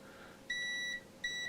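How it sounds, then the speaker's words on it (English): A multimeter beeps for continuity while testing wiring in a Fender BF Vibrolux Reverb amp clone build: one steady half-second electronic tone, a short gap, then the same beep starting again, clear and close. "That's just my meter, you know, beeping, saying I got continuity."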